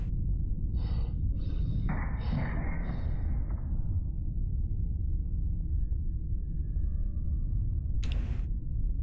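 A creature in a space horror video game breathes in several short raspy puffs, followed by a longer rough exhale over a constant low rumbling ambience, with a sharp noisy burst near the end.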